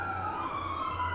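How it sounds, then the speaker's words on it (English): A wailing emergency siren holds steady, its tone sliding slightly, loud and continuous with faint road rumble underneath. "Sorry for the siren."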